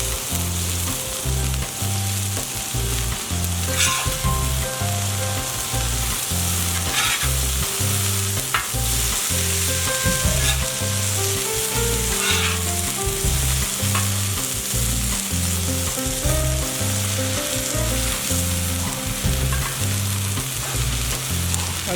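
Ground round sizzling on a Blackstone flat-top griddle, a loud, dense, continuous sizzle with faint scraping and small crackles, steady throughout and with no voices.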